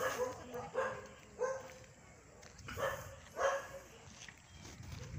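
Several dogs bark in scattered bursts, some yips mixed in, echoing inside an enclosed dog impound kennel with a muffled background hum.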